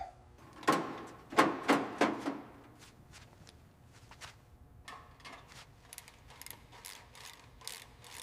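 Close mechanical ratcheting and metallic clicks from tightening bolts on a 1967 Chevrolet Impala under restoration, with a loud cluster of sharp bursts early on followed by quieter, scattered clicks.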